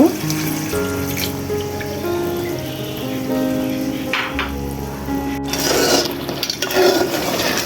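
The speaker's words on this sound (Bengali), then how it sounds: "এই পর্যায়ে আমি এখন 1 বাটি দুধ দিয়ে দেব" A bowl of milk poured into chicken cooking in a pot for chicken biryani gives a steady, close, continuous liquid rush and bubbling that lasts throughout, with a brief sharp knock partway through.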